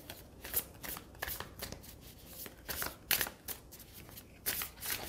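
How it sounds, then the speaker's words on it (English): Tarot cards being shuffled and drawn, producing a steady series of soft papery riffles and flicks at close range, quiet and without talk. "let's get another card for you"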